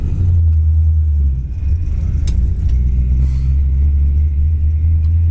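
A 1963 Chevy Impala with its original factory transmission backs up in reverse, a steady loud low engine rumble with a faint rise in revs, close and continuous with no voices.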